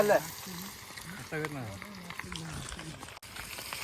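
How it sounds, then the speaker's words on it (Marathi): Chicken sizzles as it fries in a pan at a birthday party, a steady crackling hiss that stays under nearby voices talking for most of the moment. "अजून फ्राय करायला घेतलाय"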